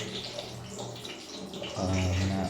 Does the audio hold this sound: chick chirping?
no